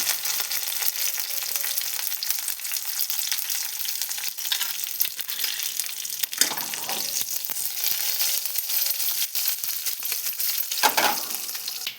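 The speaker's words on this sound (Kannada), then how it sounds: "ಸ್ವಲ್ಪ ಸ್ಲೋ ಫ್ಲೇಮಲ್ಲಿ ಇಟ್ಟು ಒಗ್ಗರಣೆ ಹಾಕೋರಿ, ಇಲ್ಲಾಂದರೆ ಸಿಡಿಯುತ್ತದೆ." Loud, continuous sizzling of garlic and curry leaves tempering in hot oil over a low flame, with small crackles and pops, frying steadily with no talking.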